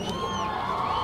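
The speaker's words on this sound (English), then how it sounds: "this crowd for Shoshone is just now really getting into this one" A Shoshoni crowd at a Class 1A 9-Man football state championship against Pine Bluffs lets out a brief burst of distant cheering and whooping, blended into a general murmur of the stands.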